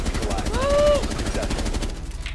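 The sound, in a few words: shotgun gunfire in Rainbow Six Siege video game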